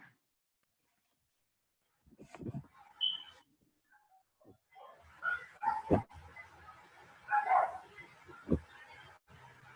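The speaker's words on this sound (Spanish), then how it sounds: "Luis Íñiga, apaga el micrófono para que no se escuche a tu perro" A dog barks and yips through an open microphone during an online class, sharp scattered barks after a quiet opening, some distant and thin, others louder, with faint whimpering between them.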